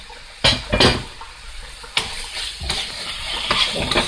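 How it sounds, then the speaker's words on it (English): Beef tossed into a hot pot for a broccoli stir-fry and mixed in, giving a few sharp clanks and stirring scrapes over a steady sizzle, close and fairly loud. "now I'm going to go ahead and add my beef to the pot, and I just want to mix that in"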